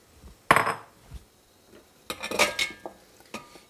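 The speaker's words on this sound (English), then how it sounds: "And we're just going to stir." A utensil stirs butter and bittersweet chocolate melting in a pot for molten chocolate cake, giving two clusters of metallic clinks and scrapes against the pot with quieter pauses between.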